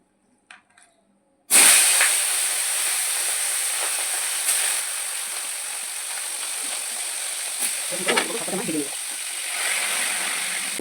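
Bhetki fish coated in salt and turmeric dropped into hot oil in a kadai: after a near-silent start, a sudden loud, steady hissing sizzle bursts in and carries on close up, with brief clatter and faint talk near the end.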